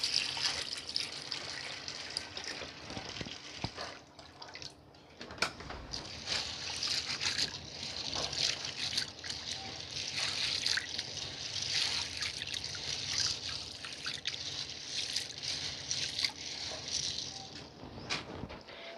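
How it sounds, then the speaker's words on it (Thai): Black beans are rinsed in water: a continuous splashing and trickling wash with occasional sharper knocks and sloshes, close and fairly quiet throughout, with no talk. "ล้างสักประมาณ 2-3 น้ำนะคะจนกว่าเราจะมั่นใจดีค่ะ"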